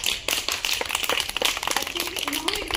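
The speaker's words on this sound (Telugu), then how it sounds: "Super, give good clap." Children clap in a preschool class while practising sitting posture, a burst of quick claps carrying on under a teacher's voice.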